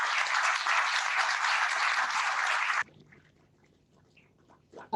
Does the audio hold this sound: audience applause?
yes